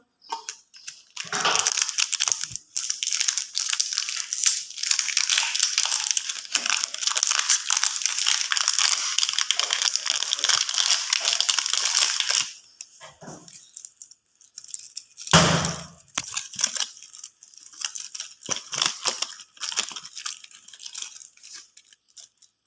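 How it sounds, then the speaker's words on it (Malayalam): Crinkly crushing and crackling of wrapped Choco Hearts chocolate candies being broken into a mixer jar, a long dense stretch, then a pause and sparser snaps and clicks. "നമ്മുടെ ചോക്കോ ഹാർട്സ് ഇവിടെ എടുത്തിട്ടുണ്ട്. നമ്മൾ ഇതിലേക്ക് പൊട്ടിച്ചിട്ട് കൊടുക്കണം."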